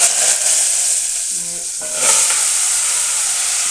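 Mustard seeds, asafoetida and curry leaves hit hot oil on a gas stove, giving a loud, steady sizzle and hiss that swells again partway through, with no voices.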